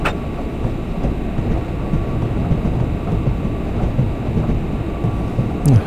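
A train rolls along rails in a train simulator game, a loud continuous low rumble with faint rhythmic clatter and a brief squeal near the end.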